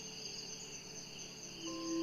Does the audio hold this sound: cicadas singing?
yes